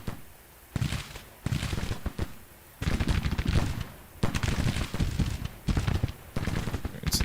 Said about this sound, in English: These guys have some cover and they're firing against the 1st Brigade here.